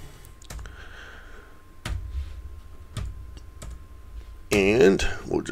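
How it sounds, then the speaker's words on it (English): Sparse, crisp keystrokes on a computer keyboard while entering commands on a Linux Mint system, a few isolated clicks spaced about a second apart and then a quicker cluster near the end, close-miked against a faint background hum. "we'll just type in the following here"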